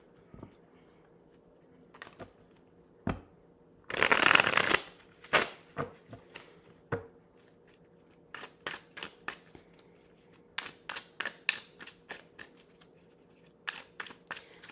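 A tarot card deck being shuffled at close range: a dense riffle burst, then a run of crisp, separate card snaps and taps, loud against a quiet room with no talking.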